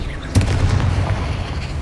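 A single sharp blast from the Confringo fire spell in Hogwarts Legacy, a loud close boom that quickly decays into a low rumbling tail.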